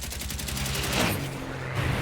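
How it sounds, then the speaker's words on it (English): Machine gun fire from a WWII bomber turret aimed at an attacking Fw 190 fighter at night, a rapid rattling burst of shots filling the whole stretch, loud and close over a steady engine drone. "The remaining turret fires with all he has at the 190"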